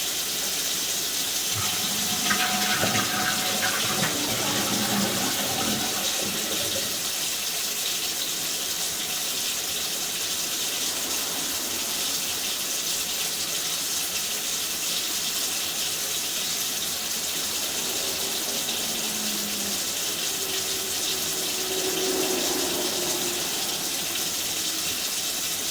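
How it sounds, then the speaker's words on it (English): Water from a toilet flush runs steadily down through the drain pipes and trap, a continuous wash of gushing and gurgling that holds at an even level, with a few faint burbles and tonal gurgles surfacing along the way. "I'm going to flush the toilet again."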